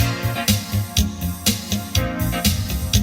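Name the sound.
minor chord on Roland VA-76 arranger workstation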